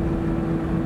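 A 2022 Toyota GR 86 boxer engine pulls with a low, steady droning hum, heard from inside the car over road rumble for a brief moment.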